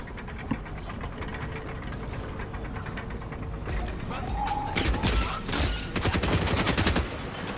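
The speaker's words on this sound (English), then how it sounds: "I'm just getting shot at." Video game gunfire: dense, rapid mechanical clattering of shots runs throughout, growing louder and harsher in the second half with strong repeated bursts, no talk.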